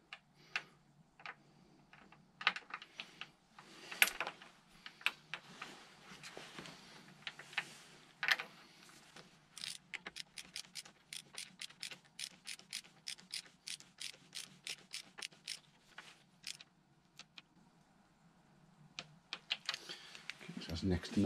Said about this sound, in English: And then you tighten it up to the correct torque setting